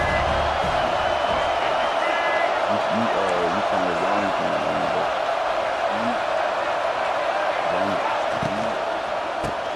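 A football stadium crowd roars in a steady, dense wash of cheering at a big moment, staying loud throughout while a commentator talks over it.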